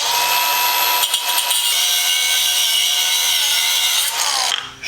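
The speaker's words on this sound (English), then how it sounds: "grab the grinder with the cutting disc on, cut them down" An angle grinder fitted with a cutting disc cuts down metal studs, giving a loud, continuous high whine close up with a brief dip near the start and the disc spinning down at the end.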